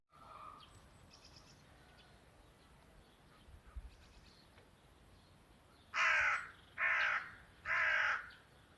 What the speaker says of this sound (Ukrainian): Ворона на березі сидить і каркає